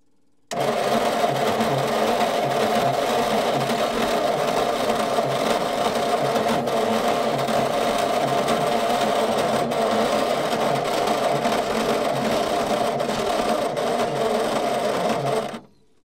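An old tip truck's engine cranks after sitting unused for over ten years, a steady, droning mechanical whirr that runs unbroken for about fifteen seconds before stopping abruptly.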